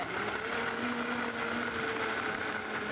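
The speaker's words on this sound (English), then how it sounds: "when you're blending at home, whether you have a Vitamix or just a regular blender" A Vitamix blender whirs steadily while blending an iced coffee drink with ice, a close, continuous motor drone with no break.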